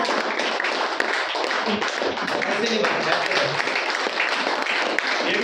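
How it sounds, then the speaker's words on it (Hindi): A church congregation claps along during a Hindi sermon, steady clapping running throughout under a voice speaking over it. "सब बजाओ ना, ताली बजा रही है"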